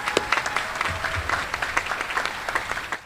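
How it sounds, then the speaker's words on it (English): An audience at a military change of command ceremony applauds the soldiers, a steady round of clapping with distinct individual claps near and far, lasting the whole stretch. "So how about a round of applause for them real quick?"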